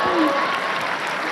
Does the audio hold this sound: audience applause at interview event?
yes